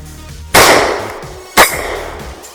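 Two loud, close gunshots from a Walther PDP F-Series 3.5-inch pistol fired outdoors, about a second apart, each a sharp crack with a short decaying tail.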